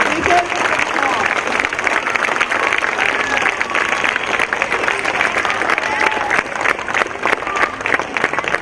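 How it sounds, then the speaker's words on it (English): Loud, continuous audience applause for children at a school annual day and kindergarten convocation, dense clapping from a crowd with background chatter and a few cheers mixed in. "I think these kids deserve a bigger round of applause"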